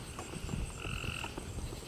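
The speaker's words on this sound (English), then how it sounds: "sounded like a voice, but it was a frog" A frog croaking outdoors at night near a bridge in Maryland, heard as a couple of short croaks over a steady low background, moderately close and alone.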